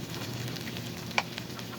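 Tomatoes are stirred into sautéed bitter melon in a frying pan, giving a steady, moderate sizzle with a single sharp click from the utensil against the pan partway through.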